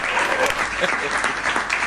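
An audience claps with raised hands in a pavilion during a poetry recital, a thick continuous wash of applause, close and loud, with some voice beneath it.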